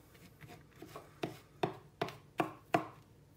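A knife chops garlic on a cutting board in about six crisp, evenly spaced strokes, close and growing slightly louder, with no one talking.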